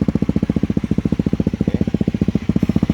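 A Honda CRF250L Rally motorcycle fitted with a racing exhaust idles close by, giving a loud, steady, rapid thumping pulse with no talk over it.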